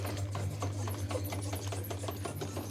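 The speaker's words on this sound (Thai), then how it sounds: "เสียงพัดลมดังสักหน่อย" A washing machine's fan runs loudly with a steady low hum and a fast, rhythmic mechanical ticking throughout, close by and with no talking.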